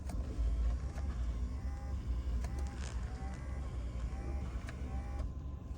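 A Fiat 500's windscreen washer sprays in short bursts, its small pump giving brief whirring whines at a rough, repeating pace over a steady low idle rumble inside the car.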